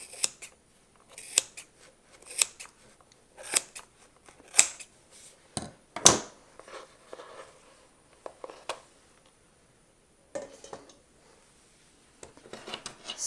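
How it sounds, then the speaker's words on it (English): Scissors snip through yarn strands to cut a scarf's fringe, a series of crisp close clicks and shears in irregular bursts with short pauses between, no talking. "the next step in making the fringe is to cut the threads at one end."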